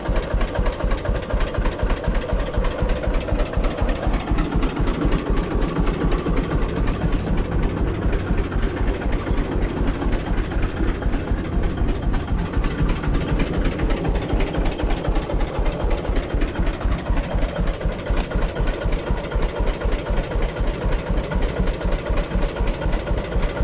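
A 1950 John Deere A tractor engine with a Model 45 loader runs steadily, its distinctive two-cylinder putt-putt beating in a fast, even rhythm close by for the whole stretch.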